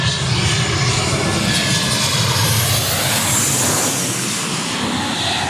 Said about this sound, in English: It's so cool watching these planes go over.